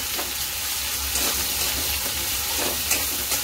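Masala frying in plenty of oil for a spicy Maharashtrian kat curry, giving a steady, close sizzle and hiss with faint stirring crackles and no talking.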